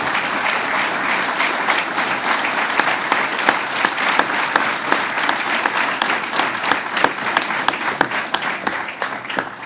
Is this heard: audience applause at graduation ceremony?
yes